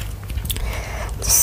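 Biting and chewing food at a hot pot meal, close and soft, with a brief crunch near the start and a few moist mouth sounds through a short stretch.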